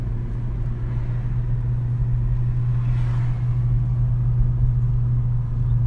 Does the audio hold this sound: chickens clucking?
no